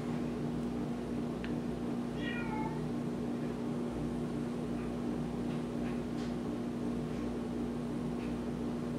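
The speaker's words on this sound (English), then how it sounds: "I hear one of the cats crying." A cat cries indoors with a single short, faint, distant meow over a steady hum from an appliance or air conditioner.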